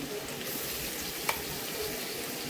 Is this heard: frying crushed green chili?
yes